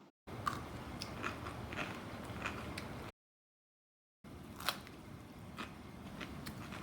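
Crisp bites and crunchy chewing of fresh cucumber slices topped with cashew mayonnaise, close and fairly quiet, a steady run of crunches broken by a short silent gap.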